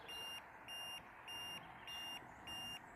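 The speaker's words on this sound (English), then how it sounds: "a slow beep like that means it's got to go higher" A leveling device on a cabin pier job gives a slow, steady beep, five even tones about half a second apart, clear and moderately close against a faint background hum.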